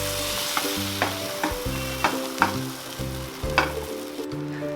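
Beaten egg frying in an oiled pan for egg Maggi noodles, with a steady close sizzle broken by repeated clinks and scrapes of a spoon or spatula against the pan.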